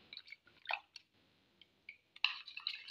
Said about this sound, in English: Then I'll pour in my color.